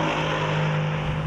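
Engine of a 2015 Mercedes-AMG C63, no longer a 6.2-litre V8, holds a loud, steady low drone with a dense, even rumble and no pauses over a brief stretch.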